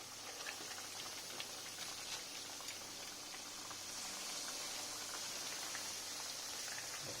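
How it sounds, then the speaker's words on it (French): Mozzarella arancini bubble in hot oil, giving a soft, steady crackling fizz with scattered tiny pops, faint and unbroken with nobody speaking. "on peut commencer à les plonger quand l'huile commence à être bien chaude"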